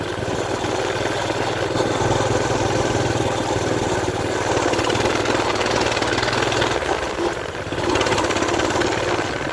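A Coleman BT200X mini bike's small engine runs steadily at a near, even idle-like drone, dipping briefly toward the end before settling back.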